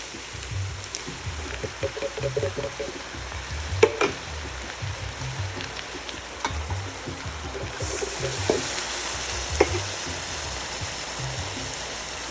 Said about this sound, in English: I'm going to add my crushed tomatoes.